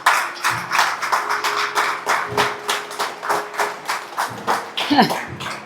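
A church congregation claps along in a steady rhythmic beat, loud and close, with a voice and a sustained tone underneath.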